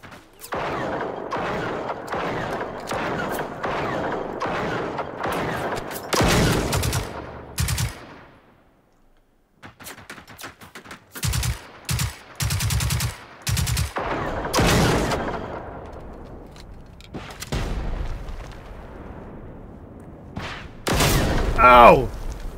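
Video game gunfire in Generation Zero, fired at the player: bursts of automatic shots and single cracks, loud and close, come in clusters with short pauses, and a voice talks briefly over them.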